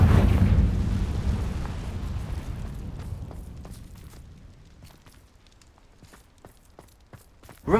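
A Confringo fire spell bursts in Hogwarts Legacy, a heavy rumbling boom at the start that slowly decays over several seconds, followed by faint scattered taps and steps and a sharp sound at the very end.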